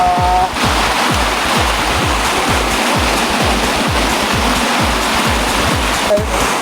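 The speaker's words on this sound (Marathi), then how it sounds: "हा आता धबधबा" Ghogata waterfall roaring steadily in continuous broadband rush, loud and close, with no voices over it.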